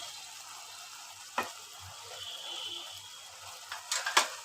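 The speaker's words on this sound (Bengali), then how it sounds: "তো এটা আরও ভালো করে সবজিটা নাড়িয়ে চাড়িয়ে কষিয়ে নিচ্ছি" Dried fish curry with vegetables and green chilli being stir-fried in a pan, a soft steady sizzle with scattered scrapes and clinks of the spatula growing busier toward the end.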